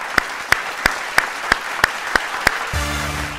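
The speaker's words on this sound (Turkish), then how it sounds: "alkışlarınızla." Evenly spaced single claps ring out in a steady rhythm on a Turkish-language variety talk show, about eight sharp hits, before a voice begins speaking at the end.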